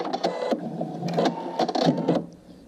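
A sewing machine stitches blue thread across fabric in several short runs. It whirs fast and close, with brief pauses between bursts and a last quieter stretch at the end.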